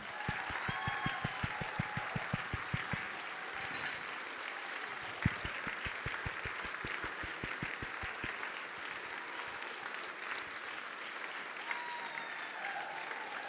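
A room of people on their feet at the Common Ground Awards 2019 gives sustained applause, dense clapping that carries steadily through the whole stretch with a few sharper claps standing out near the start.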